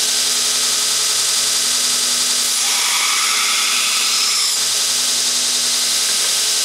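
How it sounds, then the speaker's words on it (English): A belt grinder works a knife bevel flat against the platen, giving a loud, continuous high whir with a brief rise in pitch and intensity as the blade is pressed harder. "as I drag it across this, I lessen the pressure so I'm not totally grinding"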